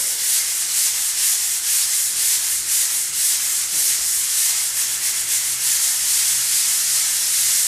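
Hand paddle sander working steadily across a wall, a continuous close scratchy rubbing hiss with gentle back-and-forth pulses, loud and unbroken with no voices.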